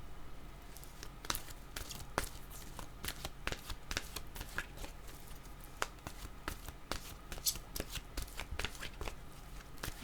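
A deck of cards shuffled continuously at close range, dense papery riffles and crisp snaps repeating in an uneven rhythm over a faint steady background hum, with no voices.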